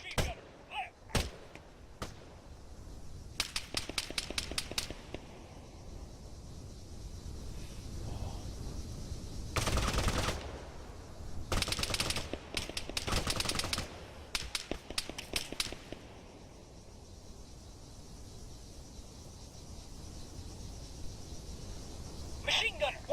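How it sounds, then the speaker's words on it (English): Machine-gun fire crackles in the Arma 3 military shooter, with sharp rapid bursts and single cracks spread across the clip, some loud and close, others fainter, between stretches of low ambience. "Engage that machine gunner!"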